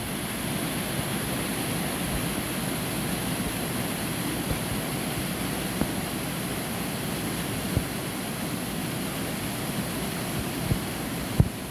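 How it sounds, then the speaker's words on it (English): A waterfall at Torc pours continuously, producing a steady broadband rush of falling water with no breaks, heard from nearby with a few faint clicks and no talking. "I'm going to just show you part of the waterfall that's coming around here."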